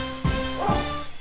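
Two quick, fairly loud barks from a dog in the arcade basketball game Street Hoop, set over a steady tonal hum of game music.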